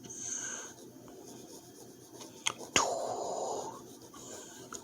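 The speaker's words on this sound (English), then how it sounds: "We're doing some sketches in the sketchbook." A pencil scratches and rubs across the paper of a sketchbook in soft, close strokes, broken by a couple of sharper scrapes and taps; there is no talking.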